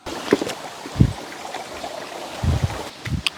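Water trickles and burbles steadily at a low level, with a few louder splashes and knocks breaking through now and then.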